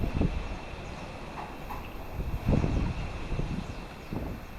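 Strong typhoon wind (Typhoon Marce) in Santa Ana, Cagayan Valley, buffets the microphone in uneven gusts, a steady low roar with occasional louder rumbling surges.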